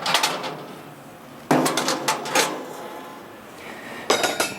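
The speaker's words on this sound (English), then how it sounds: "And then your regular cooking grates go on top." Heavy stainless steel cooking grates being set onto a Weber Summit S-470 gas grill, giving clanking metallic impacts in three clusters: one at the start, a louder set midway and another near the end, with quiet handling between.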